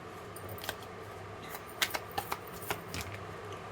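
Tarot cards are laid out one at a time on a table in a soft, quiet series of light slaps and flicks. A few sharper taps cluster near the middle, all close by with no talk.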